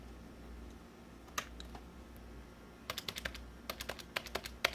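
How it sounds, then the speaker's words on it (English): A computer keyboard is typed on in short, crisp bursts of clicks, sparse at first and then a quicker run of keystrokes, close and clear over a quiet room hum with no talking. "That my keyboard's not working anymore."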